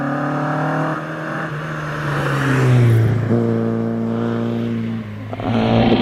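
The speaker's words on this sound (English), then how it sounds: "Paul Slade gets away in the Jaguar E-Type." A Jaguar E-Type race car pulling away at a Prescott hillclimb, its engine revving up through the gears with a loud rising and falling drone, changing pitch as it accelerates into the distance.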